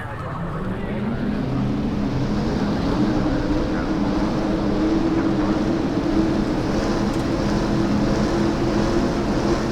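A field of NASCAR race car engines rumbles at Dover in the video game NASCAR Racing 2003, a loud, continuous low drone holding steady throughout.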